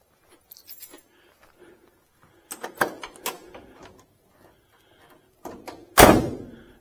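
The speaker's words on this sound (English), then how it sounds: "Again, the doors snap shut very nice." A 1965 Chevrolet Impala convertible door swinging closed: a few soft clicks and handling thumps, then one sharp, solid latching snap near the end, close and clear with no voices.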